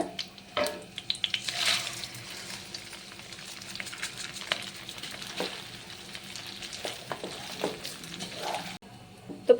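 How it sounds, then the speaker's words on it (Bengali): Soaked, drained basmati rice fries in a pan with cinnamon, cardamom and shahi jeera over a medium gas flame, giving a steady close sizzle broken by scraping stirs of a spoon. "প্রথমে আমি রাইসটাকে গ্যাসের ফ্লেমটাকে মিডিয়ামে রেখে তিন চার মিনিট মতো ফ্রাই করে নিয়েছি"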